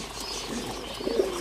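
A khaki bar pigeon hen sits on eggs while pigeons give a soft, low cooing, faint and brief against a steady background hiss.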